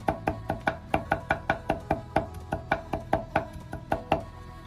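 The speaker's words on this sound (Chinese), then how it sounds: "少许的生姜和大蒜，先拍破，再剁碎" A kitchen knife smashes and then minces ginger and garlic on a board, about twenty sharp, close chops in a fast, steady rhythm with no talk.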